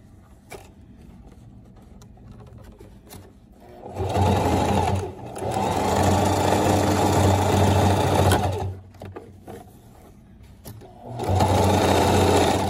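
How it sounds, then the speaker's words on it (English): A sewing machine runs a straight stitch joining two fabric pieces of a two-piece bottom. Loud, steady motor bursts of several seconds each are separated by brief pauses, with no talking. "So I'm just gonna do a straight stitch. Just to connect those two parts together."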